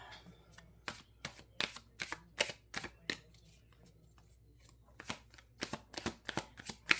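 A tarot card deck is shuffled in a steady run of crisp riffling bursts, close and fairly loud, with a short lull partway through before the shuffling picks up again.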